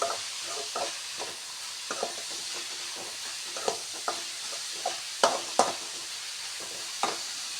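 Onions frying in a pan for paneer masala, a soft steady sizzle punctuated by repeated spatula stirs and scrapes at irregular intervals, close and moderately loud with no voices.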